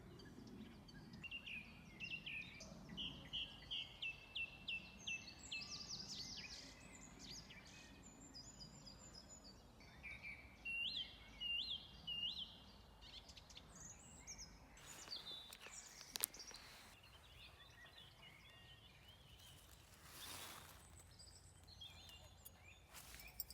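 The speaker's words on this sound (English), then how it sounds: "Just listen to those birds." Birds sing outdoors in short, repeated bursts of high chirps and trills, fairly faint against a soft, steady background hush.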